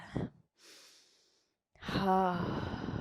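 A short sharp breath and then a softer, drawn-out exhale during a standing side-body stretch in a core workout, followed by a voiced sighing breath that trails into a hum.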